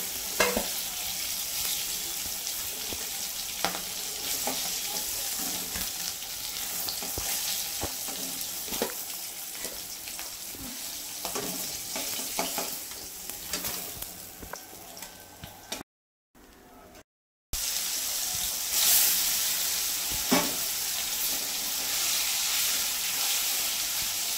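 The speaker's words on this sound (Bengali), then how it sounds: "দেখো বন্ধুরা, মাছটা ভাজা হয়ে গেছে। আমি বেশি কড়া করে ভাজবো না।" A continuous crackling sizzle of katla fish frying in oil fills the pan, close and steady with scattered spatters and stirring taps, briefly cut by a short gap before resuming.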